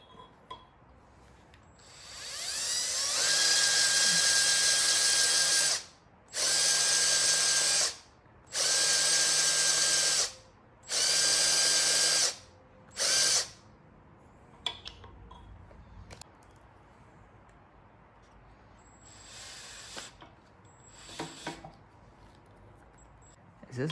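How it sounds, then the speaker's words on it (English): A power drill bores out a part on an LC9 engine build in a garage, several loud whining bursts of a few seconds each separated by pauses, followed by quieter handling sounds. "we're gonna drill that sucker out. So let's go ahead and get a drill going."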